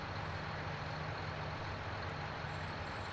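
A vehicle drives in Farming Simulator, giving a steady, dense engine drone with a low rumbling hum that stays constant and loud throughout, with no voices.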